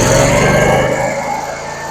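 A 14 kW Generac standby generator engine runs steadily at close range, a constant mid-pitched engine hum with a faint droop in level partway through and no talking.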